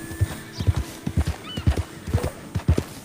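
Horse hooves clip-clop in a steady trotting rhythm on a road in the video game Red Dead Redemption 2, close and clear, with a whinny woven through and faint talk underneath.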